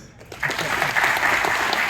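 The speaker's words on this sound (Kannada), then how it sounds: "ಕಾರ್ಯಕ್ರಮದ ನಿರೂಪಕರಿಗೆ ಮತ್ತು ಗಾಯಕರಿಗೆ ಒಂದು ದೊಡ್ಡ ಚಪ್ಪಾಳೆ" Audience applause for the presenters and singers at a BSS Micro Finance scholarship distribution ceremony, a dense, steady burst of many hands clapping that swells after a quiet start and holds for nearly two seconds.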